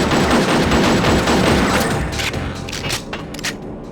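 Rapid gunfire in the shooter game Coded Arms rattles loudly in a dense automatic burst, then thins into a few scattered shots and echoing booms toward the end.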